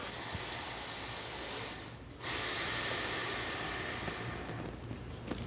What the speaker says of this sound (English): doing deep breathing exercises way down into your abdomen